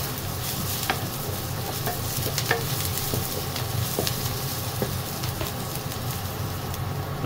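Garlic fries in a hot pan for pork adobo with pineapple, giving a steady close sizzle with crackling pops and occasional stirring scrapes, continuous and fairly loud.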